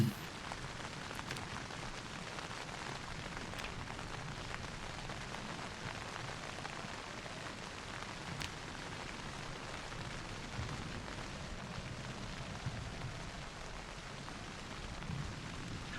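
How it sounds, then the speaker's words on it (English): Steady rain drumming on a tent from inside, in the survival game Project Zomboid Build 42, a dense continuous patter of drops with a faint low rumble, no voices. "I like that there's a different rain sound effect for being inside a tent as opposed to inside a building"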